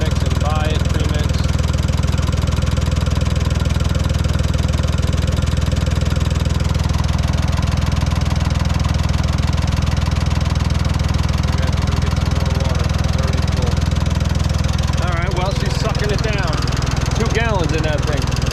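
A Ford 4000 tractor engine idles with a steady, loud, continuous rumble and clatter, close by, with the coolant being refilled slowly during warm-up.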